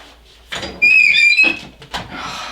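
A squeaky heat press being opened after pressing a shirt, giving a loud, high-pitched metallic squeal that rises and wavers for about a second, followed by a few lighter creaks and clunks nearby.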